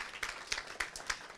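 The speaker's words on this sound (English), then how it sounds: "you can give them a round of applause for that" A few scattered claps from a small school meeting audience, sparse and faint, several distinct hand claps spaced out over a brief moment.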